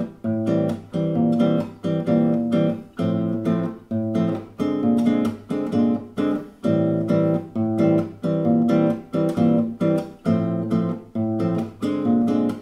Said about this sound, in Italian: Oggi vi faccio vedere questa progressione armonica che suona così.